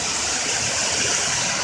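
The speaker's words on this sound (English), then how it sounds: "It's pouring down sheets of rain." Heavy rain pours down steadily at an Ohio homestead, a dense, even broadband hiss with no breaks, close and fairly loud throughout.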